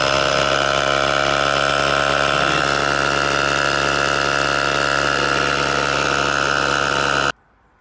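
An air pump inflates a brand-new car tyre with a steady, loud mechanical drone that runs unchanged for about seven seconds and then cuts off abruptly.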